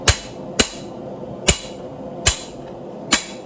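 Hammer blows on a chisel cutting a steel plate over a blacksmith's anvil: five sharp metallic strikes spaced roughly evenly, each ringing briefly, alone and close.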